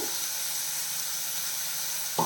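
Sliced onions and crushed shallots sauté in a hot pan for a Kerala-style okra dish, giving a steady, even sizzling hiss with no voices.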